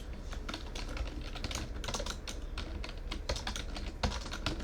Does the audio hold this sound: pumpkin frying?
no